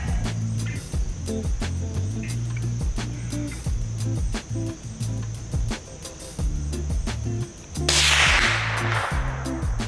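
A single sharp, loud Springfield 2022 rimfire rifle shot cracks near the end, over a steady low rumbling and clicking background.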